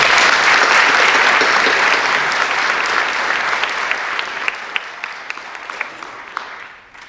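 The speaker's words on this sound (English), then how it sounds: "Can we give them all a round of applause, please?" A large audience at a Q&A event in an art museum breaks into sustained, dense applause that holds steady, then thins to scattered claps and fades out.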